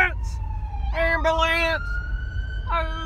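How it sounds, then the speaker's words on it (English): A wailing ambulance siren rises and falls in pitch, loud and fairly close, with a steady rumble of traffic underneath. "Ambulance!"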